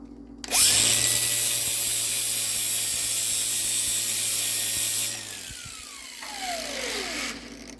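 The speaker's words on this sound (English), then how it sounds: "Careful with these flap discs, they do some damage." Angle grinder with a flap disc cuts into rusty sheet metal on a BMW E46 fender, a loud steady whine holding for several seconds before dropping off and spinning down, with a brief lighter touch near the end.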